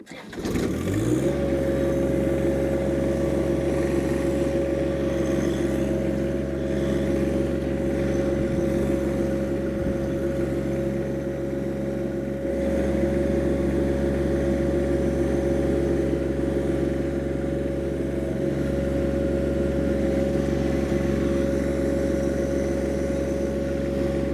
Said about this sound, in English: I'm going to position the machine near the front end loader